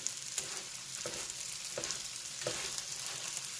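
Steady crackling sizzle of tortillas frying in hot oil, with a few brief louder pops and stirs, close and continuous with no talking.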